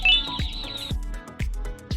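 Little pink Opila Bird chicks in the video game Garten of Banban chirp in quick high tweets, a short run of bright calls followed by a few separate peeps, close and clear against soft game background noise.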